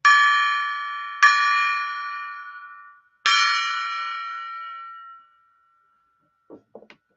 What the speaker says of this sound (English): I'm going to ring the gong.